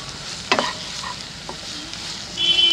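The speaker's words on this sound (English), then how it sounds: "So still continuing to stir in and frying the onions" Onions for dal makhani frying in a pan while being stirred, a soft steady sizzle close by with a few sharp scrapes and clinks of the spoon against the pan, and no talking.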